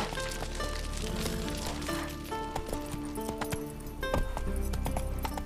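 A horse's hooves clop in uneven rhythm in The Witcher 3: Wild Hunt, close and moderately loud amid clinking tack and game ambience, with no voices.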